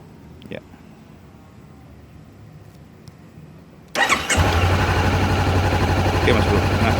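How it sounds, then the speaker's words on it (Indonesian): A Honda CBR500R motorcycle with a two-cylinder 48 PS engine sits quietly, then starts about halfway through and settles into a loud, steady, close idle that continues to the end. "Oke, kita akan coba nyalakan ya untuk engine-nya,"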